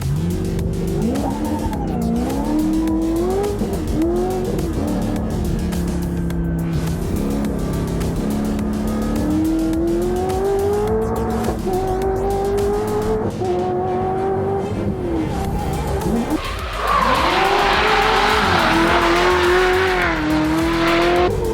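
Drift car at Brands Hatch on a qualifying run, its engine revving and wavering hard over long stretches of continuous tire squeal, loud and close, with a burst of harsher screeching near the end.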